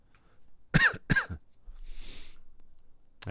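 Two sharp coughs in quick succession, close and fairly loud, followed by a soft breathy exhale.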